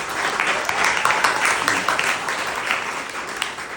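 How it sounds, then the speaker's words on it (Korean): Theatre audience applauding at the final curtain call of the Korean musical Hongryeon, a dense, steady wash of clapping with a few sharper individual claps, carrying on at moderate level without talk. "그분께 큰 박수 한 번 부탁드립니다"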